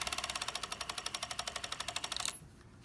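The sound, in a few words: serger sewing sleeve cuff ribbing over the seam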